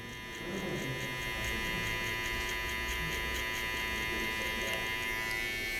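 Hair clippers with the guard closed all the way buzz steadily and continuously up close while trimming the bottom of a high skin taper fade, with no talk over the sound.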